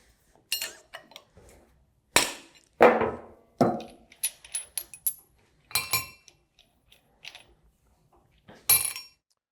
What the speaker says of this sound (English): Remove your jam nuts, set them inside your cover.